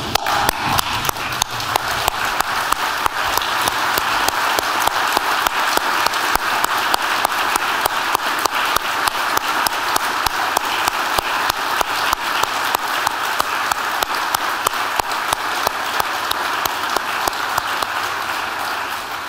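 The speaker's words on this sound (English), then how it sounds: "join me and Keith in standing up and just showing your applause" A conference audience of arboriculturists gives a standing ovation in tribute to Mike Volpe, with sustained, dense clapping that holds steady throughout and tapers slightly at the end.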